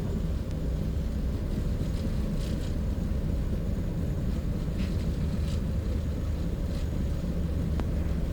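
Boeing 737-800 engines roaring in reverse thrust during a landing rollout on runway 28 at Bergamo, a loud, steady low rumble filling the cockpit throughout with no speech.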